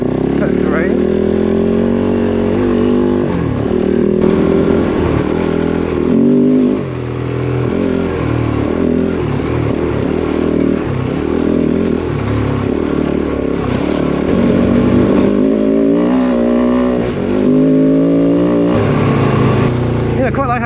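Kove 450 Rally motorcycle ridden offroad over rough terrain, its engine droning and revving up and down with rattling clatter, close and loud, while a rider talks over it.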